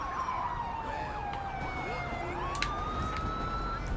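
Ambulance siren wailing during a police pursuit in the video game GTA 5, a steady rising and falling wail sweeping through the whole stretch over a constant engine and road rumble, fairly close and loud.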